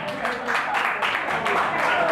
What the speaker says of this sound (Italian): Destra, applauso della destra!